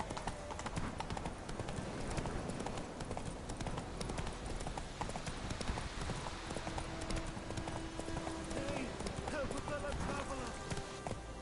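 Horse hooves clip-clop in a steady trotting rhythm in The Witcher video game, close and continuous alongside game ambience and music.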